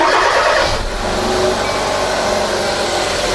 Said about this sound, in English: So now I'm gonna go in the vehicle and start the engine.